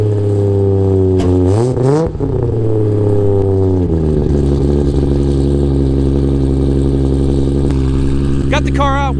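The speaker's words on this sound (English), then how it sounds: "Got the car out, we're warming it up right now." A Toyota Supra warming up, its engine idling loud and close with a steady low hum, climbing through two sharp revs early on before settling back to a smooth idle.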